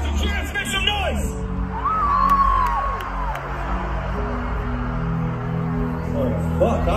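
A large festival crowd at Rockville 2023 in Daytona, during an I Prevail set, roars with cheers, whoops and shouts in a sustained, loud wall of noise, with a high whistle cutting through at moments.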